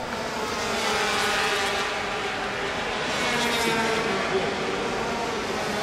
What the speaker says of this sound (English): a Grand Prix motorcycle race is being held in China